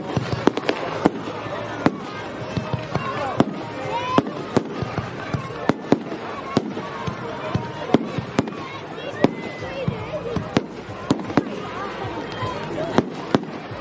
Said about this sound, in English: Would you like to see some fireworks before we go?